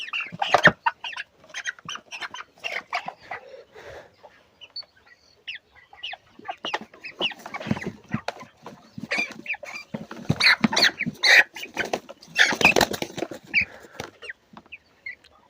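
Broiler chickens, about 27 days old, clucking and squawking in bursts while being handled and weighed, close and fairly loud, with scuffling between calls.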